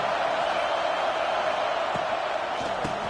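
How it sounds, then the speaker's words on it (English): A dense, steady roar from a large football stadium crowd fills the whole clip, loud and continuous with no talk standing out. "This crowd bringing the energy and noise early."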